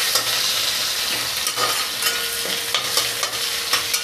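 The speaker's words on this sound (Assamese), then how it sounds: "আৰু এতিয়া কাটি থোৱা পিঁয়াজখিনিও দি দিছোঁ। ভালদৰে লৰাই দিছোঁ এইখিনি।" Chopped onions sizzle and fry in a pan while being stirred, with a loud, continuous crackle and occasional scraping strokes from the stirring.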